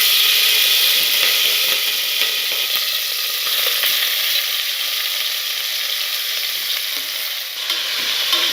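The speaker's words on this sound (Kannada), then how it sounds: "ಎಣ್ಣೆಯಲ್ಲೇ ಚೆನ್ನಾಗಿ ಒಂದು 5 ನಿಮಿಷ ಇದನ್ನು ಫ್ರೈ ಮಾಡ್ಕೋಬೇಕು." Country chicken pieces sizzle steadily in hot oil in a pressure cooker, a continuous close frying hiss with faint stirring scrapes and no talking.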